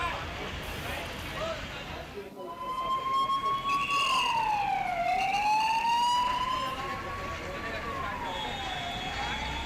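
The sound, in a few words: fire brigade vehicle siren at factory fire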